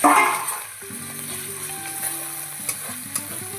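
Garlic paste hits a hot frying pan that already holds fried ginger paste, starting with a loud burst of sizzling that settles into a quieter, continuous crackle under a faint steady tone.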